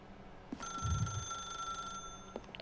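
A telephone rings with a steady electronic trill for about a second and a half inside the video game The Stanley Parable, clear and close, with no talking.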